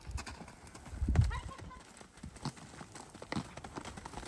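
Horse galloping under a rider during a jumping and riding session, with soft rhythmic hoofbeats on the ground and a voice calling out encouragement over them.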